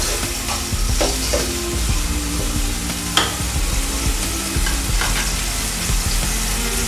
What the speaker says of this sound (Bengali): টমেটো সহ কষিয়ে দিচ্ছি।